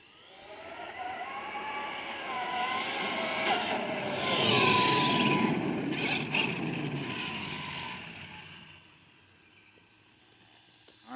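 A Traxxas X-Maxx RC truck on JConcepts Magma tires runs its electric motor in one long, loud whine that rises in pitch, peaks midway and then fades as it drives off.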